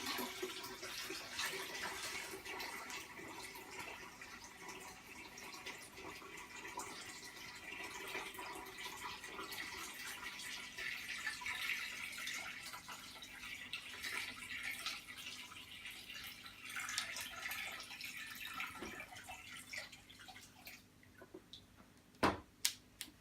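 Water pours steadily into an aquarium from a bucket during a water change, a continuous splashing rush at moderate distance that runs for about twenty seconds before tapering off, followed by a few sharp knocks at the end.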